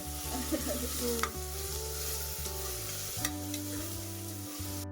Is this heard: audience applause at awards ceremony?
no